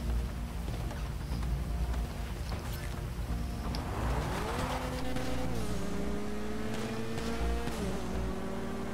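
A car driving in GTA 5 during a casino heist setup, its engine droning loud and close throughout, with the pitch rising as it accelerates and shifting through gear changes, over rushing road noise.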